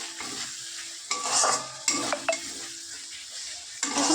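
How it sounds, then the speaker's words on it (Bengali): Spice paste stirred and fried in a pan, with steady sizzling broken by a few sharp utensil scrapes and clinks against the pan, close and fairly loud with no talking. "আর এই যে মশলা কষাচ্ছি"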